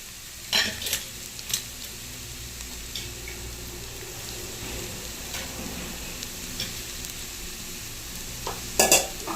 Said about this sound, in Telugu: మనం ఫ్రై చేసుకోవాలా.